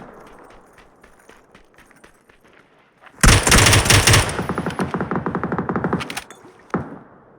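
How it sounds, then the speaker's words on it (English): M16A4 rifle on burst fire in PUBG: after a quiet lead-in, a loud sudden volley erupts, then continues as rapid, evenly spaced shots for about three seconds, with one last shot shortly after. "Using a mutant on burst fire like that would be very unusual"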